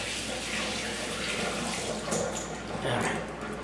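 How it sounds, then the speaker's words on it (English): Hands being rinsed under a running kitchen tap while cooking, a continuous loud splash of water with small shifts as the hands move through the stream. "Now, I'll rinse my hands off here."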